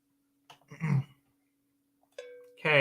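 A cowbell sample played in GarageBand gives a couple of short, isolated metallic hits with brief silence between, over a faint steady hum.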